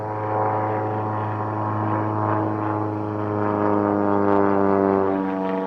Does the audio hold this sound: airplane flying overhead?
yes